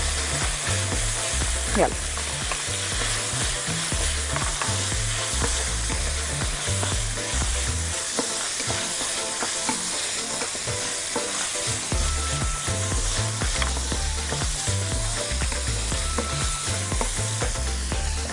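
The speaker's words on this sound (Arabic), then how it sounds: "اول ما الطاسه تسخن كويس قوي والزيت يسخن هنزل بالبصل" Onions frying in hot oil in a pan, cooked as a first step for Chinese-style chicken and vegetable rice; a steady, loud sizzle with crackling runs nearly throughout, briefly easing in the middle, and a voice speaks once.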